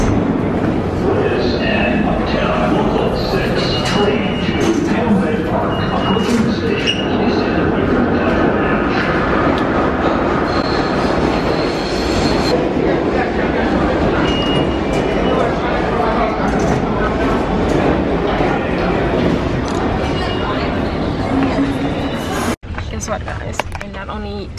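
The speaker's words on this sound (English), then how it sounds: "ooh, train is here. Train is here." A New York subway train pulls into a station with a loud sustained rumble, rattling and clacking of wheels on rails that fills the whole stretch, with a person's voice speaking over it.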